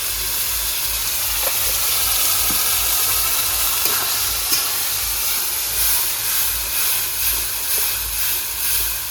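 Onion, ginger and garlic paste frying in hot oil for a village-style rohu fish curry with mango, heard as a loud, steady sizzling hiss with faint occasional clinks, close up and continuous, with no talking.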